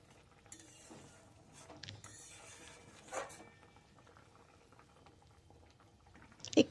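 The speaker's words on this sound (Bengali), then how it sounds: "এবার একটু ভালো করে ফুটতে দেব" A lentil-fritter curry with egg and coriander simmering in a pot, a faint low bubbling with a few soft stirring and clattering touches, ending in a brief louder knock.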